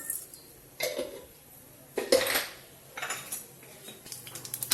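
Cumin and mustard seeds are tipped into a cooking pan of hot oil, giving a few clinking spoon-and-pan knocks followed by quiet crackling and light popping up close.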